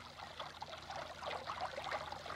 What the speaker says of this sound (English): The rainforest is the source of the perennial water that flows down as springs from the